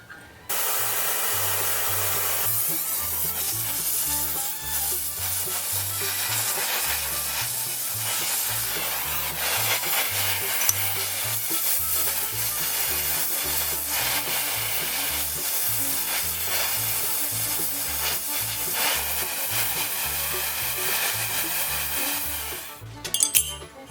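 A lathe turning a welded steel rod for custom carriage seat irons in a coach shop, a steady machine hum with a cyclic low throb running for over twenty seconds, close, ending with a few clanks and no talk.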